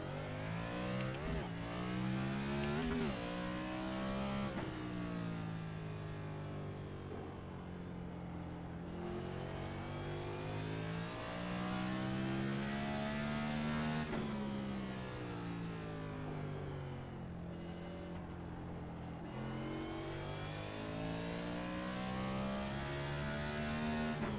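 A Next Gen stock car engine at Martinsville in the iRacing sim revs hard and continuously, rising and falling through repeated acceleration and braking cycles, loud and unbroken with no talk over it.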